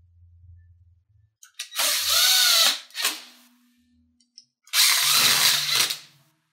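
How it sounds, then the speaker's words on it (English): A power drill drives an H6 screw into a KICK Liberty 48-inch foosball table end panel, giving two close, loud whirring bursts of about a second each, the motor whine rising, with a quiet gap between them. "Go ahead and insert your H6 screw"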